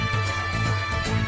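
A jaw harp twangs inside a played song, its buzzing, wobbling drone pulsing rhythmically over a low sustained tone for a short stretch.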